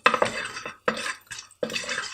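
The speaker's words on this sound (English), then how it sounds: "I'm going to add the cumin seeds now." Cumin seeds drop into hot coconut oil in a cooking pan, making a few separate bursts of sharp sizzling crackle with short quiet gaps between them, close and fairly loud.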